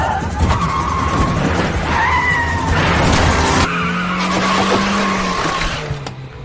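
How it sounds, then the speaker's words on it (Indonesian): A car skids with loud tire squeals and engine roar during a rainy-day chase scene in a film, the screech sweeping and sustained over several seconds before trailing off. "akhirnya Beke memilih untuk menyegol mobil Bambang hingga menyebabkan mobil Bambang terjebak"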